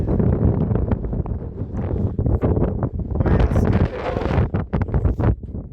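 Loud, steady wind at altitude on the Pamir Highway buffets the microphone in a continuous rough roar with gusty surges throughout.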